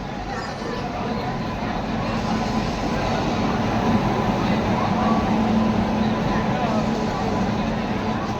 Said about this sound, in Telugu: ఫ్రెండ్స్, మా ట్రైన్ అయితే వచ్చేసింది.